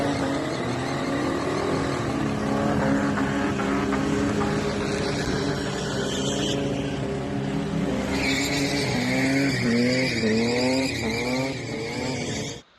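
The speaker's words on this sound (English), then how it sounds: "I did a burnout in it." A Ford Falcon revs hard through a burnout, engine note climbing and falling in sweeping pitch bends with sustained tire squeal and skidding hiss, loud and close throughout before cutting off at the end.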